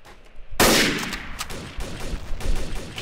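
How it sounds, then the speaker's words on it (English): Gunfire in Garry's Mod Trouble in Terrorist Town: a sudden loud shot bursts in close, and a string of quicker, lighter shots follows irregularly. "He's shooting at me."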